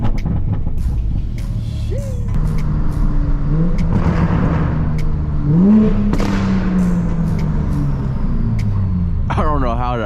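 An R33 GTR or MK5 Supra sports car engine idling after a warm start on a street, a low steady rumble with a couple of rising revs, while people talk nearby.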